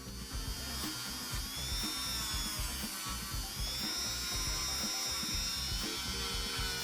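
A cast silver foxtail necklace being lightly sanded with a small rotary tool, a faint, steady high-pitched whir with buzzing, uneven grinding pulses running throughout.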